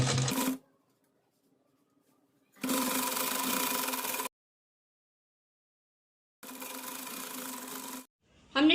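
A sewing machine stitching the shoulder seam of a frock whirs in three short close bursts separated by silent pauses, with no talking over it.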